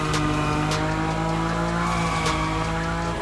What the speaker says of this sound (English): Your Nismo is powerful enough to slide along on its own when you're at high speed